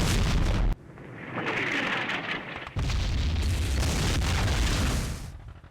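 Artillery shells burst in the Vietnam war game Campaign Series Vietnam, with loud, deep rumbling booms. A sharp blast comes at the start, then a rolling explosion runs for several seconds, and no one talks over it.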